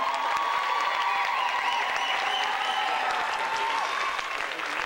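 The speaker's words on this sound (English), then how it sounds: "Now you can applaud for the drummers and the dancers." Sustained applause from a large crowd at a belly dance show with drummers and dancers in Venice, dense and steady clapping throughout with a faint undercurrent of cheering.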